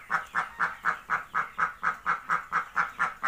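Native ducks on a farm give about thirteen quacks in a steady, fast rhythm, close and loud with no talk.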